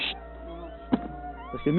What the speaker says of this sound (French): Depuis hier ils sont là, tu vois, ils font que de miauler